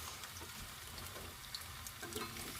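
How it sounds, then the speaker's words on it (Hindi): Potato pieces frying in hot oil over a high flame for a jackfruit and potato curry, giving a steady, dense crackling sizzle with a few louder bursts, close by and with no voices. "देखिए यहाँ पर आलू जो है बहुत ही अच्छी तरह से फ्राई हो रहे हैं।"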